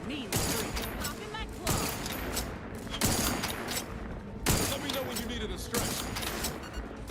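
Sustained bursts of gunfire during a fight in The Outer Worlds 2, loud and dense throughout with repeated heavier volleys roughly every one to two seconds, with no talking.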